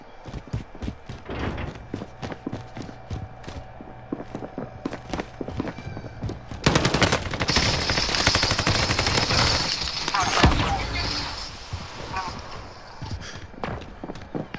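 Rapid bursts of automatic gunfire and single shots crackle through an online shooter match, repeated close cracks building into a dense, sustained volley, with players talking over the action.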